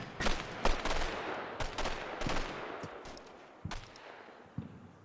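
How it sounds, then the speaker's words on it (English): A Dragon anti-tank missile team fires in a modern tactical strategy game, with a series of sharp, booming weapon reports and cracks spread unevenly across the moment, loud and close with fading tails and no talking. "Jake Snipers fires the Dragon into a bush."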